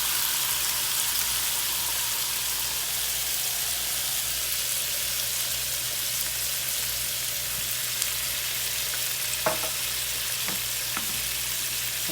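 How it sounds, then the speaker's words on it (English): Onions and peppers cooking in a pan for a roasted pepper sauce, with a steady, even sizzle close up and a few brief utensil clicks near the end. "We're gonna allow that to cook a little bit with our onions."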